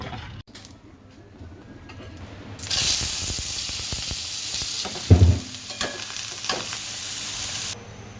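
A vegetarian dish cooks in a pan. A quiet start gives way to a loud, steady hiss and sizzle with a few bumps and stirring clatters, and the sound cuts off abruptly near the end.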